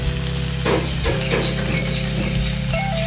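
Chopped onion, left over from a morning omelette, hits a hot pan and sizzles steadily, with stirring scrapes and a loud, continuous frying hiss close up, no voices.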